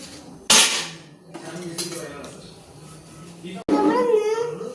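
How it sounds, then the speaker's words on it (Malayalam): A child washes dishes at home, clinking and clattering pots, pans and cutlery with a sharp clang near the start, while people talk throughout. "പാത്രങ്ങള് കഴുകി തരണത്"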